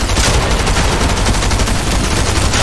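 Dense, continuous automatic gunfire in the video game Fortnite, loud and close, with rapid overlapping shots filling the whole stretch without pause.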